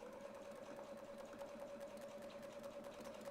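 A sewing machine with a ruler foot stitches a quilted clamshell, giving a steady, quiet, continuous whirring hum with a fine rapid needle rhythm and no talking.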